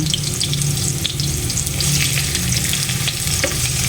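Garlic sautéing in a pan for crab cooked in coconut milk, a steady loud sizzle with crackling pops and occasional stirring scrapes, no voices.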